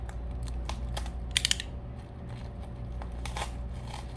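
Packaging around a mailed Hoya plant being opened by hand, with light crinkles, taps and a quick cluster of sharp clicks over a steady low hum.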